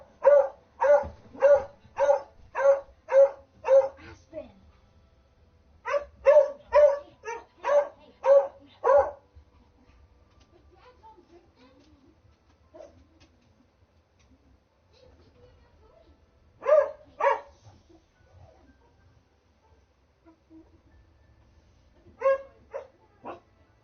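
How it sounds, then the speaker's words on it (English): A pet dog barks in a home loft, with a rapid run of about eight sharp barks, another burst of similar barks, then scattered single barks and yips with quiet gaps between, fairly near and loud. "Sorry guys, that's my dog's annoying"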